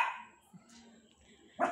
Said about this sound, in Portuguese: enquanto não pegar esse gato, aí Tobias não para de latir agora